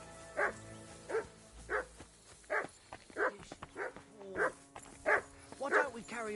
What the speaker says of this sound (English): Get that mutt of yours to stop barking.